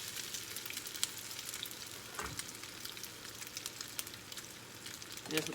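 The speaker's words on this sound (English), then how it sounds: "Then I'm going to take another ball of salmon and drop it in the skillet," A salmon croquette fries in a skillet with a faint, steady sizzle, and small crackles and pops surface now and then, a little louder near the end.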